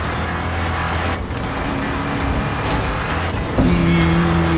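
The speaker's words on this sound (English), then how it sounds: "I got a sweet ass little car here." Engine of a small car in a first-person shooter game, a steady motor drone with a hiss like an air brake partway through and a rising engine tone near the end, loud and close.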